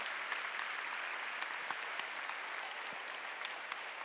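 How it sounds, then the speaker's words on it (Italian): Congregation applauding during a Catholic Mass at a youth festival, a steady, even wash of many hands clapping throughout, moderately distant and without voices. "un bel applauso"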